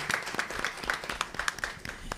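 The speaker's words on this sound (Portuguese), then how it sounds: "Salve de palmas" Scattered clapping from a modest audience at a public session on Afro-Indigenous culture and combating discrimination, with distinct individual claps and a busy, uneven rhythm at moderate distance.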